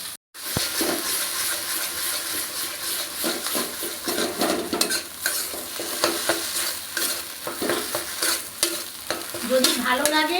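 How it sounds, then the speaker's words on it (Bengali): A paste of greens stalks fries in a pan, with busy scraping and stirring strokes over a steady sizzle, close and fairly loud, without talk. "এবার আমি এই ডাঁটা বাটাটা দিয়ে দিচ্ছি।"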